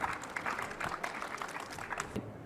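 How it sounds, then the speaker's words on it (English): Audience applause for presenter Ahsan at a poster competition session, a steady, moderately loud patter of many hands clapping that continues for a couple of seconds before tapering off. "Let's give Ahsan a round of applause."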